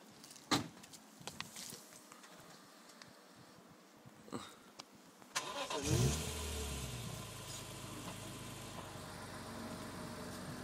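A BMW M3 E46 sits quiet apart from a few clicks and knocks, then its engine fires up and settles into a steady, rumbling exhaust idle close by.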